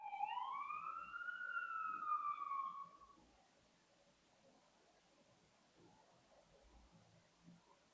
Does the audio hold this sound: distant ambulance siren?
yes